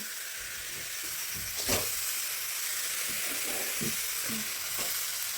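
Potato pieces dropped into a hot pan of spiced oil for vegetable chop sizzle in a steady, close, bright frying hiss, with a brief louder burst near the start and faint stirring clinks.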